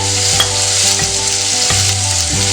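Chopped onion, with green chilli, sizzles in hot oil in a pan for a roasted-coconut chicken curry, a loud steady frying hiss with a few brief clatters as pieces drop in and are stirred.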